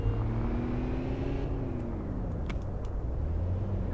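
Over-revving car engine in the City Car Driving game, a steady loud droning rumble whose pitch rises and then sinks as the revs drop, with faint clicks near the end and no talking.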